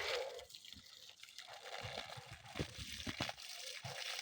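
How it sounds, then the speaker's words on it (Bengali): Water gushes from the one-inch outlet pipe of a bilge pump used to water plants, a continuous splashing, gurgling flow with uneven surges, close by and moderately loud. "দেখুন এক ইঞ্চি পাইপের মুখ বেয়ে একদম পানি বেরতেছে গল গল করে একদম ভরপুর পানি"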